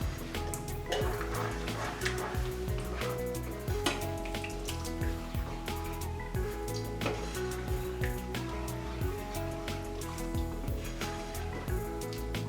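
A spoon stirs a coconut milk sauce in a pan, giving repeated soft scrapes and clinks over a quiet sizzling simmer, steady and close throughout with no talking.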